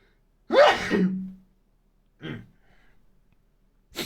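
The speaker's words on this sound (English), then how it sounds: "I need to sneeze." A single loud, breathy sneeze bursts out near the start, followed later by a short soft breath and a brief rustle, with quiet between.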